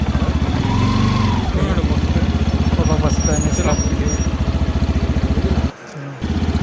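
A motorcycle engine runs steadily at close range with a low, pulsing idle rumble, briefly cutting out near the end; faint voices mix underneath.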